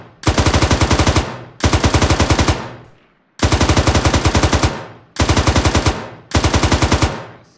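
Automatic gunfire in the Arma 3 military video game, five loud sustained bursts of rapid evenly spaced shots separated by short pauses, with no talk over them.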